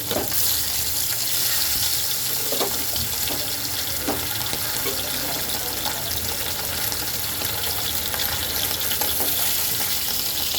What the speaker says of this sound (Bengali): মাছটাকে ভাজার জন্য কড়াইতে তেল গরম করতে বসিয়ে দিয়েছিলাম এখন আমি মাছগুলো ছেড়ে দেবো